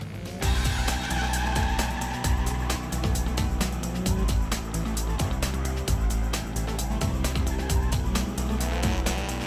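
Drift cars at Sports Land Meihan in Osaka, Japan, during a 2004 drift event, with loud continuous engine roar and repeated squealing tire skids, close and dense, with a faint voice underneath.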